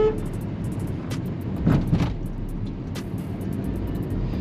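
A 2022 Hyundai Grand i10 Nios CNG pulls away from a standstill, heard from inside the cabin as a low, steady engine hum and road rumble with a slight swell as it gathers speed.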